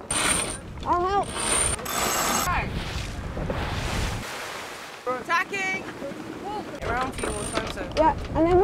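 A sailboat at sea tacks while ropes whir and squeal through pulleys in repeated runs, with wind and water noise beneath and people talking and calling out over it.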